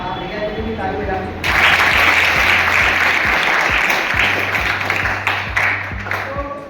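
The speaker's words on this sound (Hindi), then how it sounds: "भैया जी की ताली बजा" Students in a classroom burst into loud, sustained group clapping that starts abruptly and carries on for several seconds, with a low steady hum underneath and a teacher's voice before and after.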